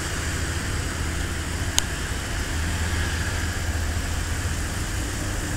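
A 2009 Ford Crown Victoria Police Interceptor idles steadily while rolling forward, a low constant engine rumble close by with a single faint click partway through and no talking.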